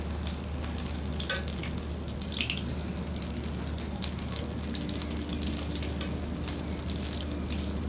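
Chicken pieces frying in a very hot pan give a steady, dense sizzle, with scraping and stirring noises as they are moved around; the sizzle stays even and close throughout, with no talk.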